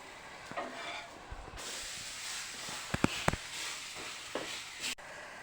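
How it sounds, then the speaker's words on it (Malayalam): Asafoetida stirred into frying passion fruit pickle masala, a hissing sizzle with scattered spoon scrapes and a few sharp knocks against the pan, cutting off abruptly near the end. "നന്നായിട്ട് ഇളക്കി കൊടുക്കാം"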